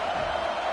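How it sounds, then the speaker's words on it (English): A college football stadium crowd roars in a dense, continuous wall of noise, loud and sustained, with no distinct individual voices. "Decibels rising as the crowd gets behind this defense on third down"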